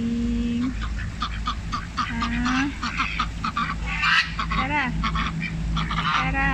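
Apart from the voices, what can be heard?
domestic duck honking while being fed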